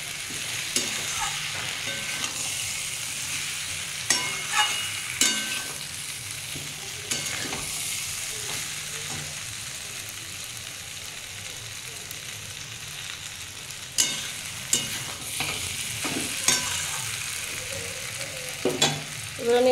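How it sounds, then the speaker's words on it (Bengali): Chilies stir-fried in a pan alongside previously fried chicken, a steady close sizzle broken by repeated sharp scraping strokes of a stirring utensil, with no talking. "এটা দিয়ে মরিচ একটু আমি কষিয়ে নেবো,"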